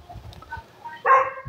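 A small puppy gives a single short bark near the end, after a stretch of quiet rustling and faint movement, close and brief with no voices over it.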